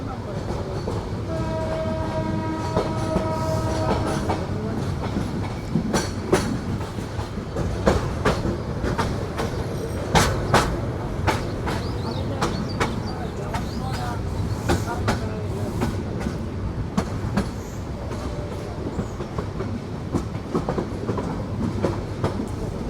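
A Cox's Bazar Express train runs on the line between Chattogram and Dhaka, its wheels giving a steady clickety-clack over the rail joints under a constant rumble, with a brief tonal sound early on.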